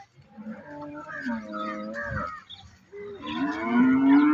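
Several cows at a large cattle market in Maharashtra moo in long, low, drawn-out calls, one after another, with a loud, close bellow near the end and faint voices in the background.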